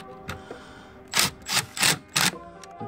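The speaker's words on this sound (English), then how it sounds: "We're going to grab a 10 millimeter socket" A 10 mm socket wrench tightening the battery hold-down on a 2013 Hyundai Elantra, heard as a few quick ratcheting clicks, then four louder rasping ratchet bursts in steady rhythm, close and clear.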